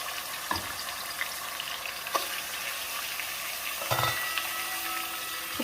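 Meat sizzles and crackles as it fries in hot oil for Kazakh plov, with a continuous frying hiss and a few sharp stirring clicks and spatters standing out near the pan.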